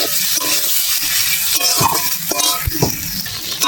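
Prawn masala fries in a pan with a pinch of sugar while a spoon stirs it, giving a steady close sizzle broken by scraping strokes and light metallic clinks.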